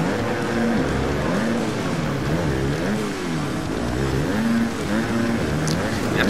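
A 250 motocross bike engine in the Monster Energy Supercross game revs up and down in repeated waves, buzzing steadily throughout while someone talks over it.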